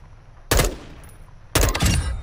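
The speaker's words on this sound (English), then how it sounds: "We can hear the gunfire, but can't see them up here." Two loud bursts of gunfire in Call of Duty: Modern Warfare II about a second apart, each sharp and booming with a short decaying tail, over a low steady background hum.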